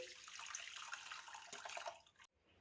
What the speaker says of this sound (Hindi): अब इसे मोटी छलनी में छान लेंगे।